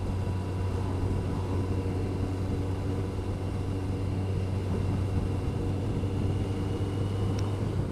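A Kawasaki ZZR1200 motorcycle rides along a road through town at around 40 mph, its engine a steady, continuous drone under heavy wind rush, with no break in the noise.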